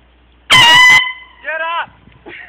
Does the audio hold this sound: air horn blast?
yes